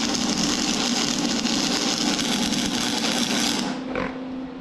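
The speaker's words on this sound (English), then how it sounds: "I'm welding it to the piece that comes off the bike" Welding on a metal piece that comes off a bike, a loud, steady crackling buzz that runs for a few seconds and then cuts off, leaving a quieter hum.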